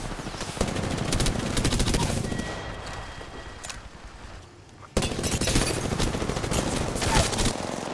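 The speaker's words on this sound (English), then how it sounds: "One guy left, guys. I'm taking shots." Sustained automatic gunfire rattles through a shooter video game as dense, loud bursts that ease off briefly in the middle before resuming at full intensity.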